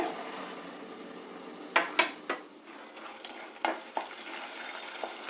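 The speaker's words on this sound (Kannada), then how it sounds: "ಸಾಸಿವೆ ಸಿಡ್ದಿದೆ ಈಗ ಕಡಲೆಬೇಳೆ ಹಾಕ್ತಾ ಇದ್ದೀನಿ" Chana dal and urad dal sizzle in hot oil with mustard seeds, a steady close frying hiss broken by a few sharp clicks and scrapes of a spoon against the pan.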